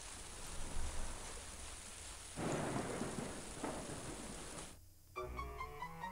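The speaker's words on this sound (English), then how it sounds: "how do you explain a storm in this season?" Steady rain hisses throughout in a video game thunderstorm, with a rumble of thunder swelling midway before the downpour briefly cuts out and resumes with faint musical tones.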